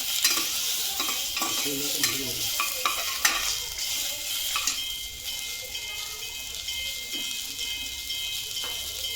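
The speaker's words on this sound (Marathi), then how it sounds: "आता मसाल्यामुळे आपण त्याच्यात कांदा थोडा परतून घेऊ" Onion sautéing in oil for a home-style paneer masala, a steady broad sizzle with scattered clicks of a spoon stirring the pan, close and continuous throughout.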